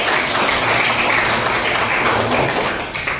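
A classroom audience applauds students after their presentation, with steady, dense clapping filling the room for about three seconds and slowly tapering at the end.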